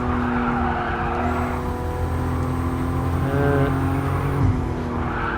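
Race car drifting in Gran Turismo Sport: a steady, loud engine drone holds under continuous tire skid and squeal, with pitch shifts as the revs rise and fall.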